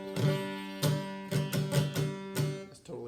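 A beginner's guitar chord is strummed again and again, unclear and buzzing. About six uneven strums ring briefly and close up, with no voice over them.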